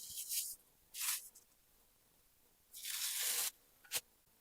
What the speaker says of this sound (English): The plastic wrap comes off very easily.